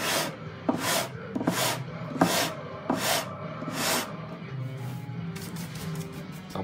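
Guitar frets being sanded during a refret, with the sanding block kept parallel to the fingerboard: six slow, even rasping strokes in a steady rhythm, close up, followed by a quicker run of shorter rubs.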